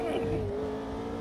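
A race car in the AMS2 sim racing game drops to first gear while braking, its engine tone sliding down to a steady loud drone, with a voice talking faintly underneath.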